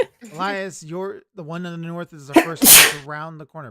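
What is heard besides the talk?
sneeze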